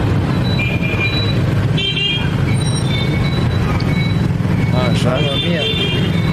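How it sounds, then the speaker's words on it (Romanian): Dense street traffic in Vietnam rumbles steadily as car horns toot repeatedly, some short and some longer, over a loud constant roar, and a voice speaks briefly. "nu știu de unde e traficul ăsta"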